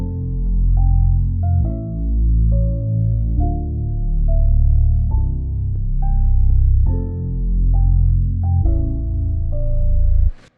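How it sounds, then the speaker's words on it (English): An FL Studio beat of deep 808 hits and sustained sub bass following the melody's root notes, with a higher melodic line over it, loud and steady in a slow pulse across about ten seconds. "So this sub bass is just playing the root notes of the melody."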